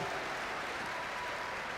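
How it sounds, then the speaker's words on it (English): A large audience at a FIRST Indiana robotics state championship applauds rookie mentors, a dense, steady wash of clapping heard from a distance and fairly faint throughout. "let's give you a big round of applause"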